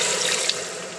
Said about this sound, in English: And we're going to add some water to it.